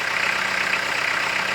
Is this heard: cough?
no